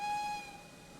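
A steam locomotive whistle in a railway game gives a thin, steady tone, loud at first and then trailing off as a faint rumble continues underneath.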